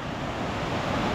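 Cucului waterfall on the Cormaia river in the Rodna Mountains gives a dense, steady roar of rushing water, loud and close, with wind buffeting the microphone and no talk.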